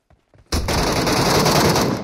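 Sustained automatic gunfire from the PUBG Metro Royale video game, likely an MK14, bursting in abruptly after a brief quiet moment and continuing as a loud, dense stream of rapid shots.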